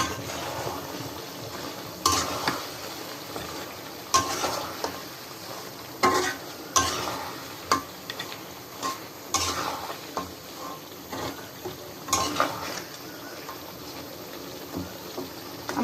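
Bone-in meat frying in a pan while being stirred, with a steady sizzle broken by repeated scraping and clanking knocks of the utensil against the pan, close and fairly loud, no voices.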